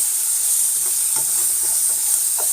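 Finely chopped onion frying with rice in a pan over medium heat gives a loud, steady sizzle, with soft scraping stirs now and then under it.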